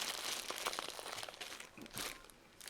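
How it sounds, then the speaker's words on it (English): A plastic bag crinkles and rustles in close, quiet handling, with irregular bursts of crackling and a louder crumple near the end, no talking. "that's just in a plastic bag, possibly even the plastic bag it came in"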